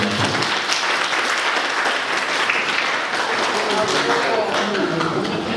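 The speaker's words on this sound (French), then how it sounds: "Applaudissez s'il vous plaît pour moi." Sustained crowd applause at a 60th birthday celebration in Los Angeles, dense and steady throughout, with many hands clapping at once and no pauses.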